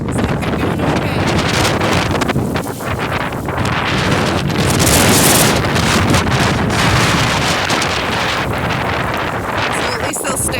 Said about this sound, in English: all this wind